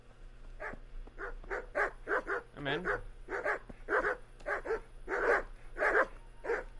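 Several dogs bark repeatedly in a Kingdom Come Deliverance game scene, a rapid run of sharp close barks with a brief growling whine in the middle, while someone briefly speaks.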